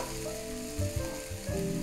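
Sliced onion frying in a pan on the stove for beef stroganoff, a steady close sizzle with louder bursts of crackle as the pieces are stirred, no voices.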